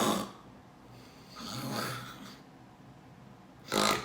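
A voice imitates heavy sleep apnea snoring: two loud rasping snore bursts at the start and end, with a softer gasping breath between them.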